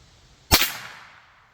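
One sharp, loud gunshot from a .32 H&R Magnum rifle during velocity testing, an abrupt crack with a short decaying tail in otherwise quiet surroundings.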